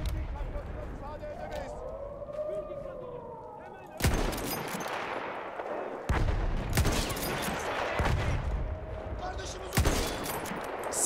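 Battlefield 1 video game: bursts of rapid gunfire and explosive blasts over a rumbling battle din, with a siren-like wail rising and falling early on.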